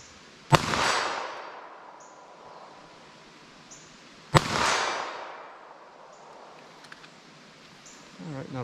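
Two sharp, loud Norma NXD .380 ACP pistol shots crack outdoors several seconds apart, each followed by a long fading echo, with no talk between them.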